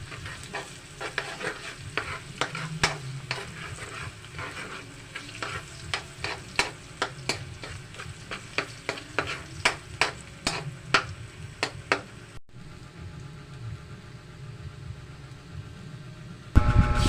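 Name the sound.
garlic sautéing in margarine and oil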